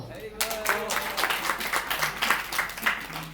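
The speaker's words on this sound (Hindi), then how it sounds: "इसके लिए ताली बजाओ।" An audience in a gurukul claps in a quick scattered burst of individual hand claps at moderate volume, with a voice speaking over it.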